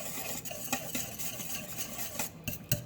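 A spoon stirs and mixes a spicy sauce for Vietnamese crispy chicken wings in a bowl, with close, irregular scraping, clinking and wet swishing strokes over a few seconds, with no voices.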